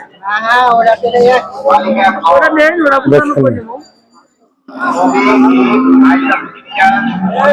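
Deshal and Sahiwal bulls at a rural cattle market give low, drawn-out moos mixed into loud, close talking by people nearby.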